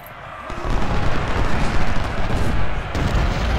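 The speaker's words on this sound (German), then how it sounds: "Kanonenfeuer. Kanonenfeuer." Heavy booming cannon fire in the video game Ultimate General: Civil War rolls continuously in a dense, loud barrage of overlapping blasts, with no voices.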